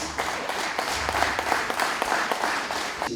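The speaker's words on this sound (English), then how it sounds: "Give him a round of applause, please." Audience at an MLK celebration day event applauding a keynote speaker, a full, continuous round of clapping from a crowd that stays steady for the whole stretch.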